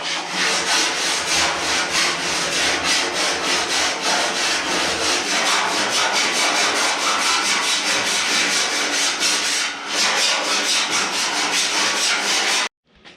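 Sanding a welded, planished steel cab panel on a 1930 pickup truck, loud and close, a continuous rapid rasping scrub with rhythmic strokes that pauses briefly near the end before stopping abruptly.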